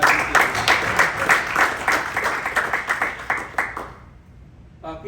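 Applause at a cricket association's annual captains meeting, a dense burst of clapping from the crowd that fades out after about four seconds, leaving near silence.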